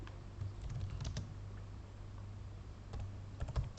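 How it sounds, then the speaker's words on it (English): Typing on a computer keyboard while writing code, a soft scatter of quiet key clicks in short bursts, with a brief flurry near the end over a steady low hum. "then we can type"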